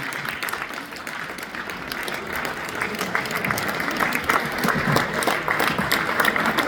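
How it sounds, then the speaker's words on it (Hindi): A standing audience at a stage drama applauds in a steady, dense burst of clapping that holds its level throughout, with some crowd voices mixed in. "एक बार ताली सब लोग खड़े होकर बजाएंगे।"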